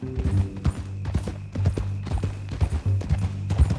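Horse hooves clip-clop steadily on the ground in Red Dead Redemption 2, a close, even rhythm of heavy hoof falls over a low rumbling backdrop, with no voices during the stretch.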